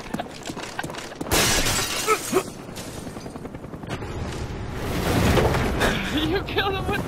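A claymore mine in a first-person shooter game explodes in a sudden, sharp blast, followed by gunfire clatter and shattering debris, with excited voices talking over it.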